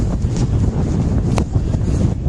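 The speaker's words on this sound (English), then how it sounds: "A lot of wind, but you kind of have to expect that at a beach." Strong wind roars steadily at the beach in Wildwood, a loud, constant rumble buffeting the microphone with slight gusty swells and no voices.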